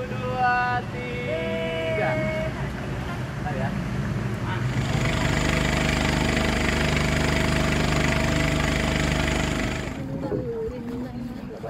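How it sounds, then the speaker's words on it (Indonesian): A tourist boat engine runs hard and steady at Green Canyon, Cijulang, a loud continuous drone that surges in the middle and eases off near the end, with people talking over it at times. "perahu melaju dengan kencang"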